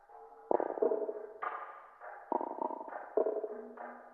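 A looped percussive pattern of pitched, resonant hits repeats in a steady rhythm, each strike ringing briefly before the next.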